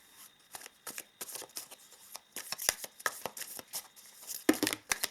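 A deck of tarot cards being shuffled up close, with crisp, papery riffles and slaps coming in quick irregular bursts and no voices.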